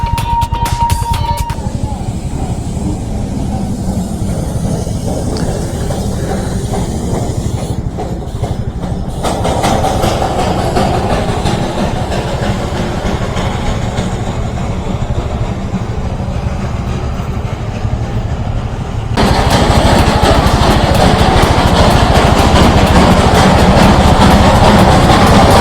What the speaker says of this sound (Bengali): আমার পাশ থেকে টয় ট্রেনও চলেছে